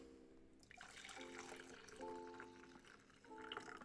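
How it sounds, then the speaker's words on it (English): A drink poured into a glass, a faint liquid stream with bubbly filling sounds rising in pitch, close but quiet, alongside some tonal background hum. "And then pour myself some."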